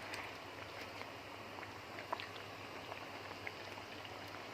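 Homemade tomato ketchup simmers quietly in a pot, a soft, steady bubbling with scattered small pops and plops, faint and close with no voices.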